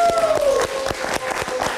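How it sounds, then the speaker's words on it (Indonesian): Audience clapping at a live evening talk event, honouring a documentary film team, sustained and fairly loud with scattered sharp claps throughout. "Kita berikan tepuk tangan juga untuk tim"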